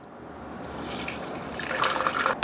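Water poured into a raw sprouted bread mixture, a steady splashing pour that grows louder and brighter toward the end, close and alone with no talking.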